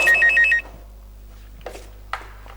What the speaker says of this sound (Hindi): फोन आया मेरा।